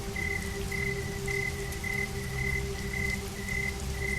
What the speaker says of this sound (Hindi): 4 दिन से बारिश रुक नहीं रही है।